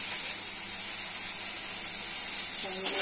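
Soybean chunks fry in hot oil in a wok, a steady bright hiss of sizzling with little variation, a soft clink or stir near the end.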